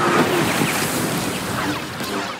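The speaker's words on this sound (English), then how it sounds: "The ghost skims the waves" The Ghost starship skims ocean waves in a Star Wars Ahsoka episode, heard as a loud, close, whooshing surf roar with wind noise that sweeps forward and slowly fades.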